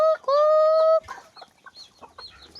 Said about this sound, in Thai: นี่พวกไก่กระเลนมาล่อถากิดเขานะทุกคน